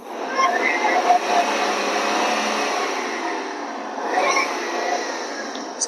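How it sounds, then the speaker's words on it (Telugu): A 2012 Maruti WagonR LXi car engine running on LPG and petrol revs up with a rising, sustained roar, easing off and then building again near the end, heard close with no talking. "బండి రేస్ చేస్తున్న సౌండ్ వినండి"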